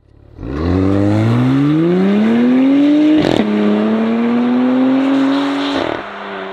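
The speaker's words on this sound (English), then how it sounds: "we are obviously now in the Porsche Cayenne GTS and oh, she's still going" A Porsche Cayenne GTS SUV accelerating hard, its engine note climbing smoothly through two rising pulls separated by a quick gear change, loud and close with no talk.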